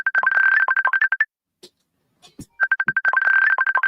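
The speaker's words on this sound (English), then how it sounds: "I'm ringing. But I don't know where my phone is." A phone ringtone chirps in rapid trilling bursts, stops for a moment amid a few faint knocks and rustles, then resumes just as loud and close, with no talking over it.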